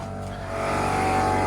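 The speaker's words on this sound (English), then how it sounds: "Connect in right here with your air compressor. You can hear mine going now." An air compressor runs steadily while airing up a bus, a loud continuous motor hum with a droning tone that grows slightly stronger, with no voices over it.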